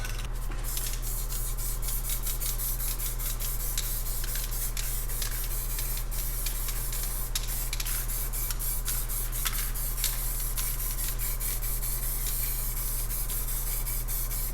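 An aerosol spray paint can lays a light purple mist over fluorescent yellow and green for space-themed spray paint art. The hiss is continuous and close, over a constant low electrical hum.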